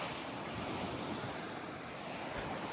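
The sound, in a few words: sea waves at Bihing Tahik Resort, Tawi-Tawi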